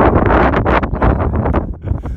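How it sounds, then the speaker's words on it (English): Strong wind on a mountaintop lookout tower on the Appalachian Trail buffets the microphone in loud, gusty bursts, rough and close. "Pretty windy here."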